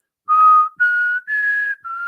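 A person whistles four sustained, clear tones in a row, each held about half a second with short breaks, imitating a whistle heard inside a crypt; close and loud with no other sound.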